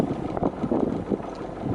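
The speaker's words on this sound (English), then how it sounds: "One of the also nice things about this type of boat, dual steer, is you get to hear the propeller wash" Propeller wash churning behind a slow dual-steer cruiser on the Norfolk Broads, a steady low watery rumble with soft surging pulses, close and continuous, mixed with light wind buffeting.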